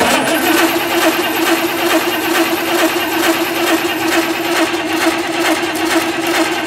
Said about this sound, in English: just crank it to prime it with fuel